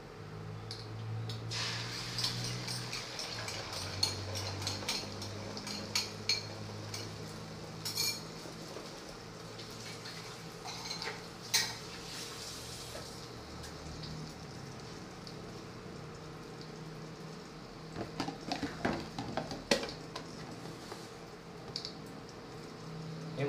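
Eggs being scrambled in a pan for a breakfast and lunch dish, with a steady soft crackle and intermittent clinks of a utensil against the pan, moderately close and without talk.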